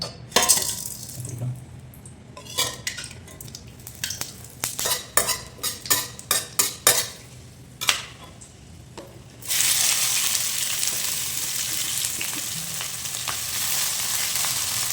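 Cinnamon, cloves, cardamom and pepper go into hot oil for an egg gravy: a run of sharp clicks and taps, then a sudden loud, steady sizzle that holds to the end.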